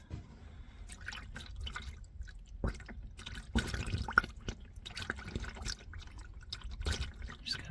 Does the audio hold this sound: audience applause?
no